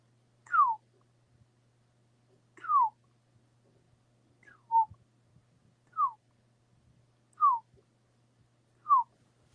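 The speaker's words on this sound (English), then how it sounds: "so if you hear that chirp also out there" Six clear descending whistled chirps, attributed to Bigfoot, sound outdoors at even intervals of about two seconds over a faint low hum, each short and distinct with near silence between.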